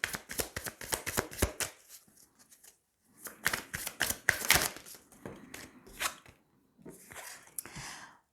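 Oracle cards are shuffled by hand in quick crisp riffles and flicks, coming in close clustered bursts separated by short silent pauses.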